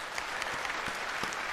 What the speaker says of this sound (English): Ich habe auch das Bedürfnis zu applaudieren.